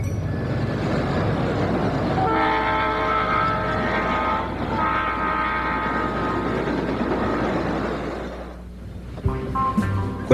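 A train rumbles past steadily and loud, with a rising harmonic whine in the middle, then drops away before some closer clanking at the end.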